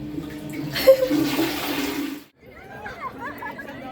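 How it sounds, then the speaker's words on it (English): A toilet flushes in a bathroom in Milan, Italy, with a loud rushing of water for about two seconds before cutting off, followed by quieter refilling and trickling, with faint voices in the background. "So here you flush."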